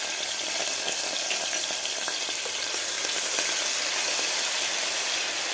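Finely chopped green chillies sizzling in hot butter and oil, a close, steady, crackling fry with small pops and stirring scrapes throughout.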